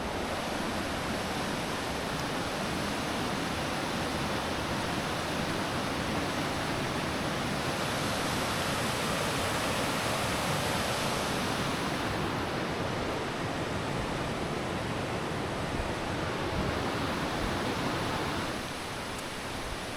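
A river flows beside a flat, green forest path, giving a loud, continuous rushing roar of water that stays even throughout and eases slightly at the very end.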